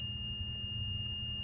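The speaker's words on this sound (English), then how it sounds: "increase the boom angle and you'll see that it goes into alarm mode" A crane console alarm sounds once the boom angle limit is exceeded on a Carrydeck crane, a steady high electronic tone over a low pulsing hum, continuous and without talk.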